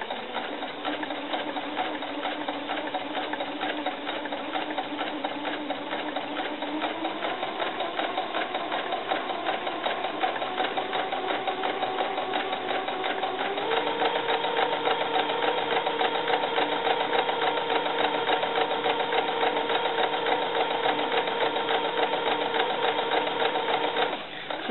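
A sewing machine stitching a doll cover-up runs in a continuous fast mechanical whir, its pitch stepping up a couple of times as the speed changes, steady and close throughout.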